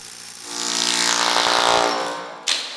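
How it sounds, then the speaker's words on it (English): A power drill bores holes through a floor down to the basement, one short burst of whining motor that builds, holds for about a second and a half, then winds down, close and alone. "I had to drill 2 holes to the basement."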